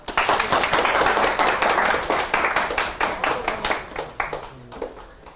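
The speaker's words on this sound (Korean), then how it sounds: "멘토 선생님한테 박수 한번 칩시다." A group of students at a university essay-admissions talk claps for a mentor teacher, a brisk burst of many hands that starts loud and gradually thins out into scattered claps.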